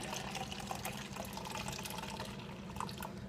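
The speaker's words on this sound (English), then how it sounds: "So what you do is, like I just did, pour your kombucha on in." Homemade kombucha trickles through a funnel into pre-sterilized bottles, a soft, continuous pour with small drips and gurgles, fairly quiet and close.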